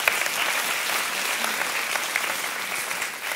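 Church congregation applauding, a steady wash of many hands clapping throughout at moderate loudness, with no talk over it.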